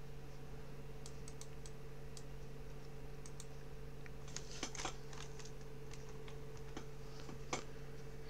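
Keyboard typing heard as scattered, fairly quiet clicks and taps in short bursts against a steady electrical hum, with no talking.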